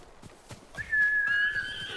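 A horse in the Ghost of Tsushima video game on PS5 answers a whistle with a whinny, preceded by a few soft hoof taps, the call rising steadily and holding for nearly a second.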